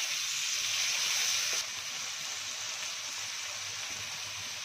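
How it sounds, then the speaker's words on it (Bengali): Onions fry in a pan for a Bengali banana-blossom dish, giving a bright, steady sizzle that drops slightly in level partway through, close and without talk. "পেঁয়াজগুলো দিচ্ছি।"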